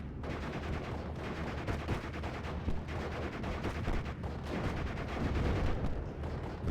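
A 4.2 inch mortar team fires in the WWII strategy game Steel Division 44, heard as a dense run of muffled, overlapping booms and thumps against a constant low battlefield rumble at moderate distance.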